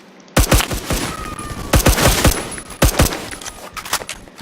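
Rapid bursts of .50 cal Beowulf rifle fire in the video game Phantom Forces, a dozen or so sharp, loud shots in uneven clusters with short pauses between volleys.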